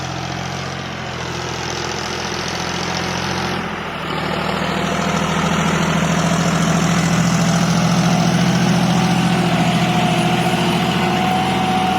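John Deere 5040D tractor engine running: a steady low idle that jumps up to a louder, rougher throb after a few seconds and holds there, close and continuous, with no talking.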